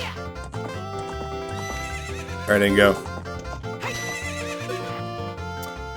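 A horse gives a brief, loud whinny at the corral in the video game The Legend of Zelda: Ocarina of Time, over game music, with someone speaking just before.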